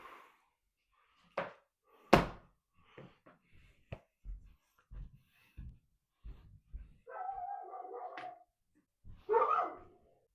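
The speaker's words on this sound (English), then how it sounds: "Don't bark at me." Dog barking indoors in a series of sharp, close single barks with pauses, followed by a longer whining yelp and another bark burst; no talk.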